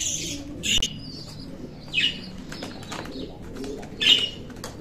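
Monk fancy pigeons at a bird seller's in Lahore give three short, sharp bursts of wing flapping at close range, over soft cooing and a low background murmur.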